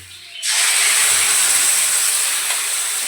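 A paste of green chili, ginger, garlic and turmeric hits hot oil in a pan, bursting into a loud, steady hiss that holds without a break.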